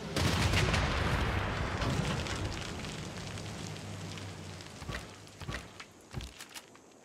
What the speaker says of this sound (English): Use our submarine to fire on this mechanized infantry corps.